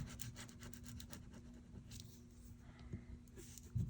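Washi tape being burnished down by hand onto a mixed-media art surface, a steady close rubbing and scraping texture with repeated strokes and a couple of sharper knocks near the end.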